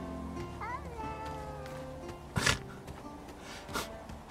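Cat meowing in the video game Bellwright, a brief rising call followed by a couple of short louder bursts, heard over steady game ambience and music.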